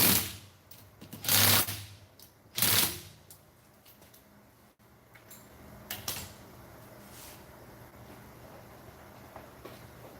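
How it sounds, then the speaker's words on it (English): A cheap impact wrench rattles in two loud, short bursts while driving bolts on a Predator 212cc small engine build, followed by quieter workshop clatter and a few faint ticks. "this is my cheap impact. It's good for setting everything else"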